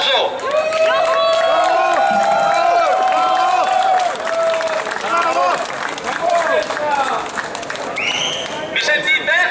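A crowd at a Venetian independence rally applauds and cheers as the next speaker takes the stage, loud clapping and shouting with a sustained amplified tone and voices over it.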